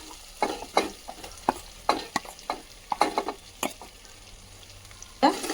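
Masala paste frying in a pan for stuffed brinjal curry, stirred in a rhythm of distinct scraping strokes over a low sizzle, close and clear.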